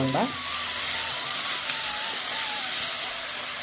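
Onions sautéing in a pan for squid curry give off a steady, loud sizzle and hiss, with a brief scrape of stirring at the start and a constant frying crackle throughout.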